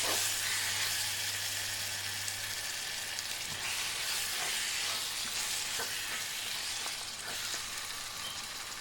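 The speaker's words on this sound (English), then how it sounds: "add a bunch of fresh coriander and mix it in thoroughly" Mutton frying in a pan for bhuna gosht as fresh coriander is stirred in, a steady close sizzle with scraping stir strokes throughout and a low hum underneath.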